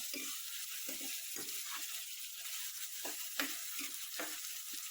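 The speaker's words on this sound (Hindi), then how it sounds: "टमाटर को भी हमें अच्छे से नरम होने तक पकाना है।" Chopped tomatoes sizzle steadily in hot oil in a pan while cooking for egg curry, with a continuous frying hiss and occasional soft bubbling pops and spatters, close and alone.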